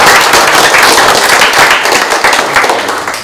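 A wedding crowd breaks into loud, dense applause that gradually fades over a few seconds.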